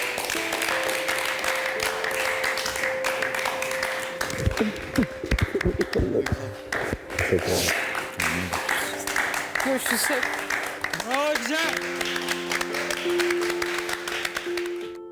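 In a cooking competition studio kitchen, group applause runs throughout, mixed with talking voices, taps and music tones, staying moderately loud without a clear peak.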